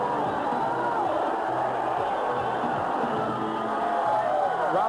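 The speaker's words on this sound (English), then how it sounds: "Rafael Ruelas makes his way in to a loud response from his crowd, primarily a positive response." Arena crowd at a 1995 Las Vegas title boxing bout cheers and shouts as the defending champion makes his entrance, a loud, continuous roar of voices filling the whole stretch with no pause.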